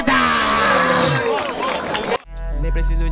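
A crowd at a Brazilian freestyle rap battle, the Batalha da Aldeia, cheers, shouts and claps for the MCs. Loud, close crowd noise runs for two seconds, then cuts abruptly to a music beat.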